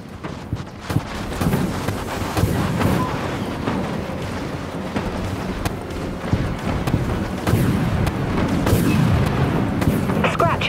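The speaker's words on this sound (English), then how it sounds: "Launching torpedoes." Torpedoes launch and explode in the naval combat game Dreadnought as dense, rumbling blasts and sharp booms that pile up over a continuous roar of engine and sea noise, loud and close.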